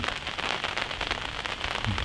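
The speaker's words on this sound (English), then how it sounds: "Today should be rain right now, should be turning over to snow" Steady rain falls on a hillside during a snowy deer hunt, a dense continuous patter with scattered crackling drops close by.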